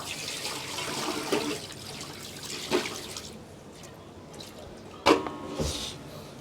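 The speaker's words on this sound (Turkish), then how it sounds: "Suyumuzu döküyoruz." Water pours and splashes into a cooking pot for a Kars-style goose dish, a close liquid rush that thins into drips, followed by a sharp clatter near the end.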